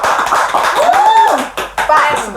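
An audience claps for Pak Agus at an indoor talk-show event, a brisk patter of hands running beneath a speaking voice.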